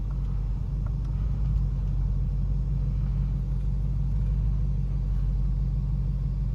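Ford Mustang Mach 1 engine idling in Sport Plus mode, a deep, steady low rumble that stays constant and fairly strong with no revving or other sounds over it.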